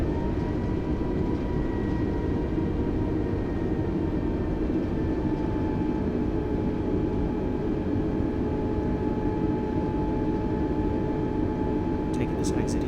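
An A32NX airliner rolls out after a firm autoland touchdown in Microsoft Flight Simulator, giving a loud, steady broadband roar of engines and runway rumble that barely changes.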